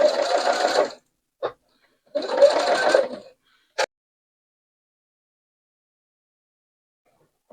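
A domestic sewing machine stitches pieced fabric in two close, buzzing runs of about a second each, with short clicks between and after them and then silence.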